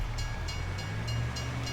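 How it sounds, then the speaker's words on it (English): A freight train rumbles past a level crossing in the Farming Simulator 25 video game, a steady low rolling drone with faint rhythmic wheel clicks recurring about every third of a second throughout. "I've got stopped by the train."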